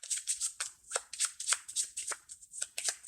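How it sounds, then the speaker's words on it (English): A deck of board game cards is riffled and shuffled by hand, quick crisp bursts of flapping card edges repeating in an uneven rhythm, close and fairly quiet. "shuffle them"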